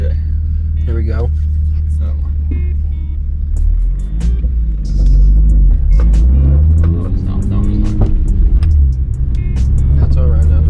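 Engine of a Nissan 350Z with a manual gearbox pulls away in low gear, a steady loud rumble that swells as it accelerates, with people talking over it inside the car.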